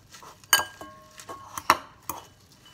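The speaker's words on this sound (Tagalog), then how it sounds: "Mix ko lang ng ganyan" Food is mixed in a bowl with a utensil, giving several sharp, separate clinks and taps in an uneven rhythm, close and moderately quiet, with no speech.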